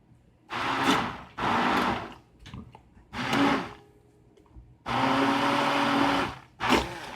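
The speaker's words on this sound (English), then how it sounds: "use a handheld blender like I did" A handheld immersion blender whirs in several bursts in a big pot of chile verde, starting and stopping repeatedly, with short pauses between pulses and one longer steady run.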